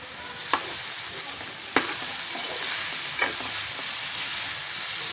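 Oil sizzles quietly and steadily as chillies fry in a pan, with a few sharp clinks of a utensil against the metal.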